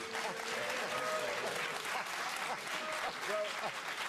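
Studio audience applause on a televised political debate panel show in Edinburgh, steady and dense throughout, with a few voices and whistles rising faintly over the clapping.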